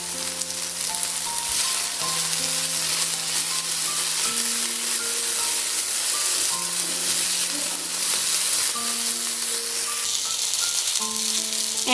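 Small diced potatoes and chopped ginger, with chopped tomato, frying in a pan for a Bengali-style poha pulao, giving off a steady, loud, continuous sizzle with a melodic music track playing underneath.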